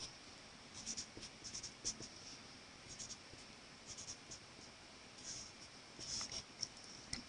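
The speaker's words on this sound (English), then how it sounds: "so I'll draw my brackets." Pen writing out brackets during a calculus derivation, a soft continuous scratching across the page with brief stroke accents, quiet and close.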